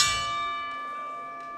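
A wrestling ring bell at a Capitol Wrestling match rings one sustained, clear metallic strike whose tone rings out and slowly decays, close and alone with no talk over it.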